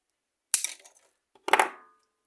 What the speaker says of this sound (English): I'm gonna make one loop, and then just cut the wire here.